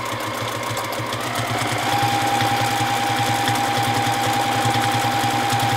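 A sewing machine runs steadily during free motion quilting, its needle hammering in a rapid, even rhythm up close, with no talking.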